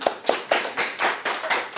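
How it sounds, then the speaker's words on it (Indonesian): An audience at an Indonesian talk on honesty gives a short burst of clapping, about eight rhythmic, fairly close claps in under two seconds. "Silakan tepuk tangan dulu ya."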